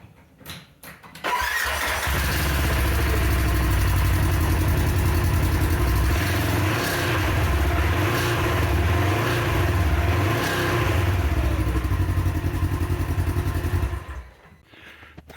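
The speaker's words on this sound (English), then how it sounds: "capture a clip of the exhaust sound" A 2024 Polaris RZR XP1000 with a Trinity Stage 5 full exhaust system starts up and runs, a loud deep rumble that rises and falls with several blips of the throttle before cutting off.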